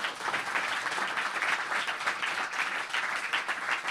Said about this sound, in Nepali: आउनुहोस् हामी थपडी मारौँ